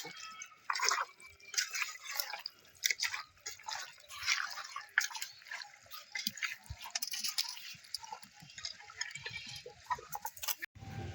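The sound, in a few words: mixing mutton with marinade by hand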